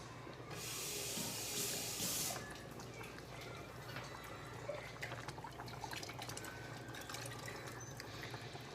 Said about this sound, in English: I'm just going to run over to the sink and rinse my can out